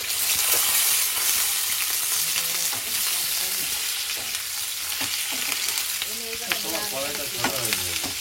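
Loud, continuous sizzling of black cumin seeds frying in hot oil, with a brief voice and utensil scraping near the end.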